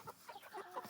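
A few quick clucks and soft chirps from young backyard hens during a heatwave, close and fairly faint, packed into a brief moment with no voices.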